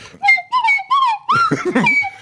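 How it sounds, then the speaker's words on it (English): A slide whistle toots a few short rising and falling notes, then a quick flurry of warbling slides, close and loud. "That is a real slide whistle."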